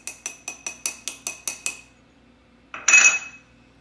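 Flour, cream of tartar and baking soda are sifted through a small metal sieve: about eight quick, evenly spaced metallic taps, then a brief louder rattling shake, all close and alone.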